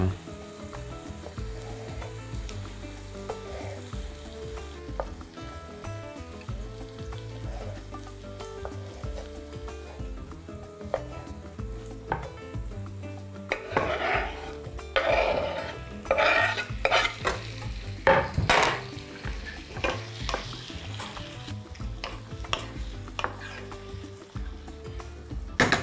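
Vegetables fry in a pan with a constant close sizzle. Repeated stirring scrapes and utensil knocks grow louder and busier in the second half.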